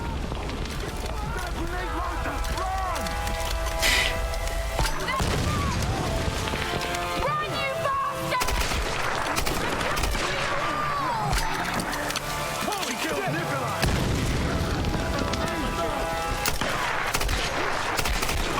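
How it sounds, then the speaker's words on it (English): Machine gun fire in a Tomb Raider video game, repeated bursts of rapid shots mixed with game effects, heard beneath near-constant commentary from several people talking. "That first guy with the machine gun, he's the most likely to start spamming shots at you"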